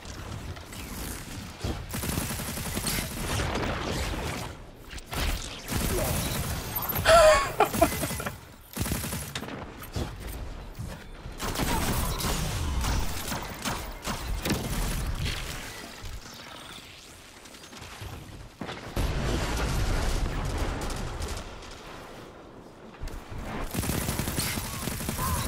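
Submachine gun fire in the Destiny 2 PvP shooter, the Adjudicator SMG, comes in rapid bursts and sustained strings of loud close shots mixed with other game effects and mechanical clatter.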